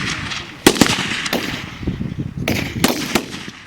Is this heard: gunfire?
yes